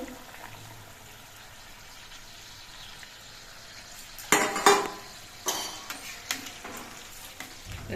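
Bhola fish curry simmering as mustard paste is stirred in, a low bubbling sizzle followed by louder bursts of spoon scraping and clattering against the pot in the second half, no speech.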